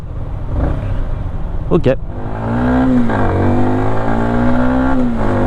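A Yamaha MT-125 motorcycle engine idles at just over 1000 rpm with a low hum, then revs up and holds a higher, steady drone. A voice speaks briefly near the start.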